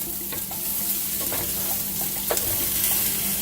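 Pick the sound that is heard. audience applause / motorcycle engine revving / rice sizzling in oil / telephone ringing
rice sizzling in oil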